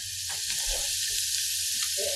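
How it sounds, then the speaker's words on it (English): Onions sauté in olive oil in a pan, a steady bright sizzle that hisses continuously at close range, with a few faint clicks and stirring sounds beneath it and no talking. "I just let this saute just until it starts to get a little bit tender."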